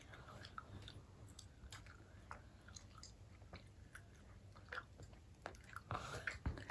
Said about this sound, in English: Just chew it, swallow it.